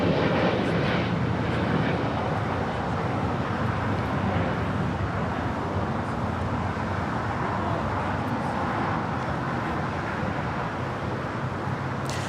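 Steady, dense roar of an Airbus A320neo airliner departing LAX for San Salvador, holding at an even loudness throughout with no voices over it.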